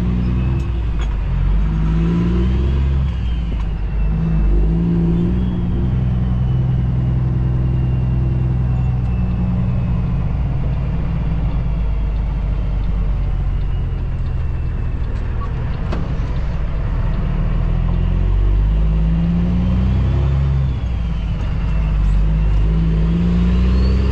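A semi truck towing an oversized load drives off with a loud, continuous engine rumble and road noise. The drone runs steadily throughout, close and heavy, with no talking.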